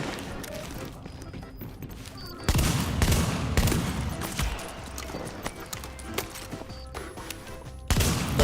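Hand cannon gunfire in the video game The Division, a series of loud, sharp shots in bursts over busy game ambience, with sudden heavy blasts standing out near the middle and end.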